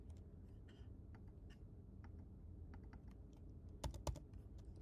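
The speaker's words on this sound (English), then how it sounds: "We can have this be rewritten by typing in" Someone types on a computer keyboard while editing chart text, producing scattered, soft key clicks close by with a few sharper, louder clicks near the end.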